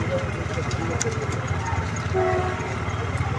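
A train rumbles steadily nearby at a road crossing in Hojai, with rhythmic clatter and a brief tonal horn-like note; voices can be heard under the noise.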